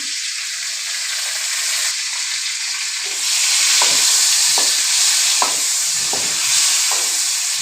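A curry mixture with curry leaves bubbles in a pan, giving a steady close sizzling hiss broken by soft, evenly spaced plops as the bubbles burst. No one speaks.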